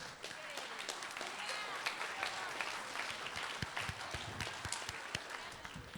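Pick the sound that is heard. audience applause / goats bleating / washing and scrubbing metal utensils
audience applause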